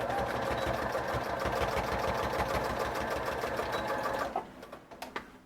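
A sewing machine stitching a paper journaling card for a junk journal, a steady rapid mechanical whirr that runs continuously, then stops with a few soft clicks and handling sounds.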